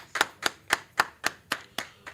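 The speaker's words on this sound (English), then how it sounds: "Clap it up, clap it up," A group claps in unison at a history class in Houston, eight sharp, evenly spaced claps in a steady rhythm, fairly close, with no talk over them.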